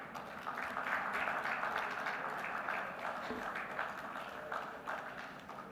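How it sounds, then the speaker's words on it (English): Audience applause at the India Maritime Week 2025 event greets a speaker, a steady broad clatter of clapping held at even strength throughout, with faint voices beneath it. "Big round of applause."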